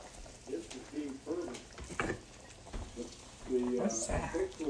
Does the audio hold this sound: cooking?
yes